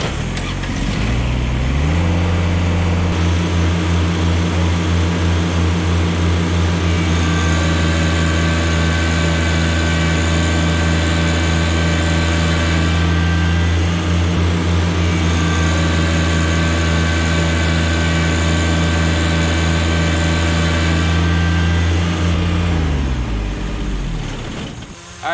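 A Kubota BX compact tractor and a John Deere 1-Series tractor push against each other, their diesel engines droning loud and steady under heavy strain for over twenty seconds with a fairly constant pitch before easing off at the end.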